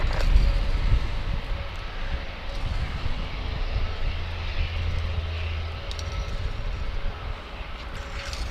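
An Air China airliner roars down runway 08 right at Gatwick on its takeoff roll, a steady, loud broadband engine rumble with deep low-end power holding throughout without letup.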